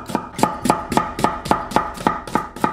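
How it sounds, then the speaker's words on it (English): Knife thinly slicing a large onion on a board: ten crisp, evenly spaced chopping taps in a quick steady rhythm, close and clear, with no talking. "Thinly slice the onion."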